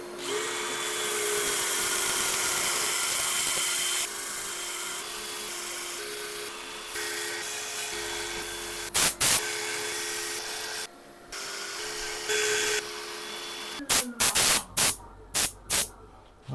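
A false acacia burl being power-sanded, the sander's droning whir running loud and steady before breaking into stop-start bursts and short clattering spurts near the end.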